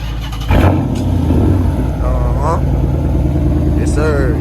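A car engine cranks and catches at night, a sharp start followed by a steady loud idle with a low rumble, while voices talk and music plays over it.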